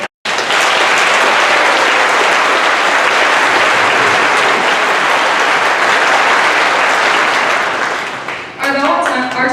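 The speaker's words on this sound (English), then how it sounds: "I think all of these guys deserve a round of applause one last time" Loud, sustained applause from a Chamberlain High School Class of 2021 graduation ceremony crowd, a dense roar of clapping that carries on for several seconds before a voice comes in at the end.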